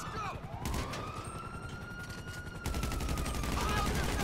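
Rapid gunfire bursts crackle in the video game GTA 5 while a police siren wails steadily through the scene, the shooting growing denser and louder toward the end.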